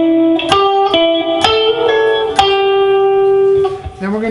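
Electric guitar lick from a blues lesson, played slowly with slides, a hammer-on and a pull-off; clean sustained notes with a few sharp picked attacks, steady and fairly loud, ending on a held note.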